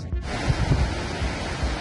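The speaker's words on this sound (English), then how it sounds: "You have some really nice waves with all that white caps." Ocean waves with white caps roll in at La Jolla Cove in San Diego, a steady loud wash of surf and wind-blown rumble that carries on throughout.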